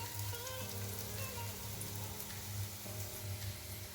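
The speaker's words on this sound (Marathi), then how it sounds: "लो फ्लेमवरतीच याला फ्राय करा म्हणजे या छान फ्राय होतील" Moong dal bread sticks frying in oil over a low flame give a steady, close sizzle with a soft bubbling crackle, continuous and even throughout with no talking.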